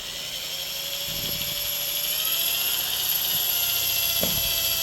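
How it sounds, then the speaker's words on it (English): Electric drill boring a hole through an aluminum blade guard on a Porter-Cable 743 SideWinder saw, a steady high-pitched whine running throughout with a few brief low knocks, close and fairly loud. "It is just aluminum, so pretty easy to drill."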